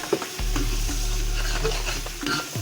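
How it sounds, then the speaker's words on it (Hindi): Garlic-ginger masala sizzles loudly in a pot after a splash of yakhni stock, a dense close hiss with a few spoon scrapes and knocks over it. "जितना मसाला हम भूनेंगे यखनी डाल के ही भूनेंगे।"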